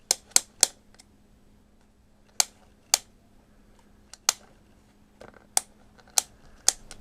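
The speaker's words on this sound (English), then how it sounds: "You hear that clicking noise." A vintage Kenner Star Wars turret playset gives sharp, dry plastic clicks, heard up close as single clicks and quick pairs spaced irregularly over a quiet background.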